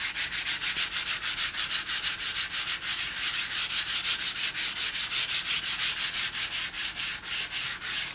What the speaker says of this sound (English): give it a very light sanding with some very fine grit paper